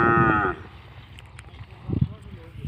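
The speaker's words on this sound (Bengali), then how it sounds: "বিশটে গরু" Cattle by the Jamuna river in Bangladesh: one loud, close moo opens, then a deeper lowing follows after a pause, with faint outdoor background between the calls.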